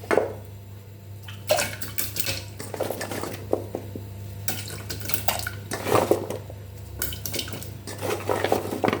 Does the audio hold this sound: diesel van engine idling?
no